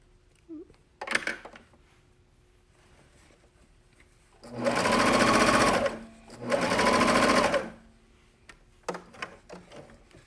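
Two loud, close bursts of a sewing machine stitching a jersey, each lasting about one to two seconds. Light clicks and thread handling come before and after them.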